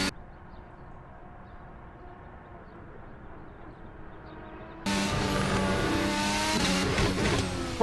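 A Formula 1 car at full throttle in the Assetto Corsa racing game on the Le Mans circuit, its engine note holding a steady drone before jumping sharply louder and brighter into a high, sustained scream that runs to the end.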